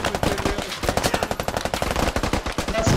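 Rapid automatic gunfire in a squad-based shooter video game, dense bursts of machine-gun shots rattling continuously and loudly throughout.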